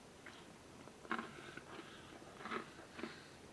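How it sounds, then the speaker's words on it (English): Crunchy homemade French bread pizza topped with pepperoni, mushrooms and anchovies is bitten and chewed close up, giving a few soft crackling crunches at irregular intervals in a quiet room. "I'm going to grab one of these suckers off here, give her a little taste"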